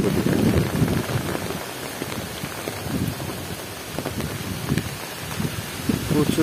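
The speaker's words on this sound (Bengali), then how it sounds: "যে পরিমাণ বাতাস সেই পরিমাণ বৃষ্টি।" Heavy storm rain pours down amid gusting wind, a dense steady hiss with rumbling wind buffets rising and falling.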